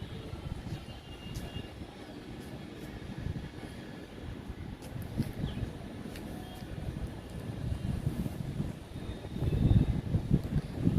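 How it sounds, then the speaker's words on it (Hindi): Steady wind rushes and rumbles across an open rooftop, gusting a bit stronger near the end, with no one speaking. "हवा चल रही है सुबह से आज बहुत बढ़िया वाली।"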